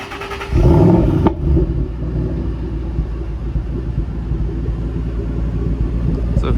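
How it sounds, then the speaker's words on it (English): A 2013 Ford Shelby GT500 engine cranks and fires about half a second in, with a loud burst as it catches. It then settles into a steady, deep, close-up idle rumble that continues to the end. "So here you hear the rumbling 2013 GT500"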